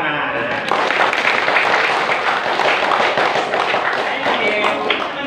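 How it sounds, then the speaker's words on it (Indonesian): Applause from a school audience during a digital reading corner storytelling session, dense sustained clapping that fills the space loudly and evenly for several seconds before tapering slightly. "Boleh tepuk tangan."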